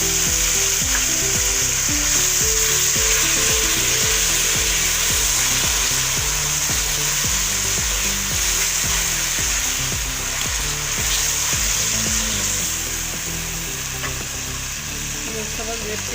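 Tomato paste fries in a pan in a loud, steady sizzle that lasts throughout. A spoon stirs and scrapes it now and then, and faint talk sits underneath.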